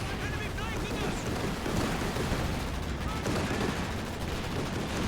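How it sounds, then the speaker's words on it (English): Strafing autocannon fire from a Centaur anti-aircraft vehicle in Company of Heroes 2, a steady dense barrage of rapid shots and blasts amid battle noise, with a commentator speaking throughout. "The Centaur's strafing fire is just beautiful."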